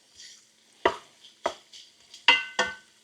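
A spoon stirs thick cheddar cheese soup in a pot, giving five sharp scraping, clattering strokes at an uneven pace, close and fairly loud, with softer rustles between them and no talk.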